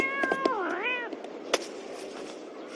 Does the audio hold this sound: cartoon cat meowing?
yes